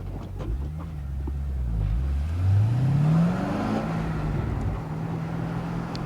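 A car on street tires with minimal modifications accelerates through a warm-up lap at AMP race track; the engine note climbs steadily, loud and close, then levels off into a sustained drone, with no talking.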